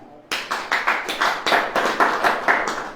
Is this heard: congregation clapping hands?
yes